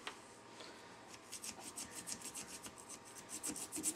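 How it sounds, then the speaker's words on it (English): A toothbrush scrubs shotgun parts after an ultrasonic cleaning, a soft rhythmic series of close bristle rubbing strokes with no talking. "I went and grabbed my toothbrush. I'm going to get in there and I'm going to scrub now"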